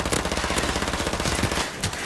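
Uzi submachine gun fired from the hip in a shooting video game, a rapid steady burst of loud close shots for about two seconds.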